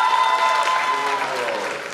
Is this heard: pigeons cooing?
no